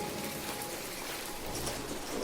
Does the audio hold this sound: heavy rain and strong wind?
yes